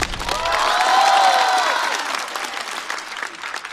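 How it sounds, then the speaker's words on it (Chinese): Studio audience at a stand-up comedy show applauding comedian A Xiu, a dense burst of clapping that swells in the first second, holds, then slowly thins out toward the end, with faint crowd voices mixed in. "再次掌声送给阿修。"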